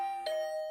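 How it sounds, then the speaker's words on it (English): Two-tone electronic doorbell chime at a character's room door in a video game, one clear ding followed by a sustained ringing tone, heard alone with no talk. "I prayed as I rang her doorbell."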